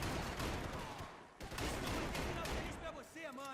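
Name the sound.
gunfire in the video game Max Payne 3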